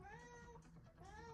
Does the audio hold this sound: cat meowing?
yes